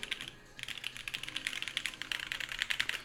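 Typing on a mechanical keyboard fitted with 55-gram creamy switches and PBT keycaps, a quick run of soft clacky keystrokes, close and fairly quiet, with a brief pause near the start.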